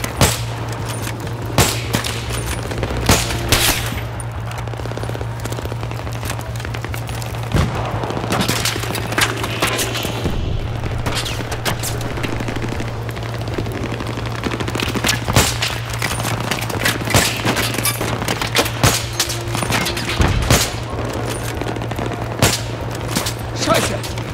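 Dense, rapid gunfire in the video game Battlefield 3 crackles without pause, sharp shots layered over a steady low hum.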